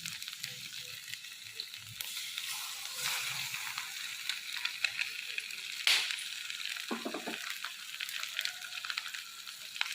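Eggs and ivy gourd pieces fry in a pan with a continuous crackling sizzle, close and moderately loud, with an occasional light clink and stir partway through.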